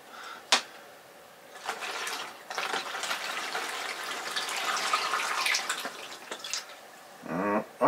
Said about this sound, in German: Ich fülle wieder Wasser in den Filtersack.